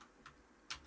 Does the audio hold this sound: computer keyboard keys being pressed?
yes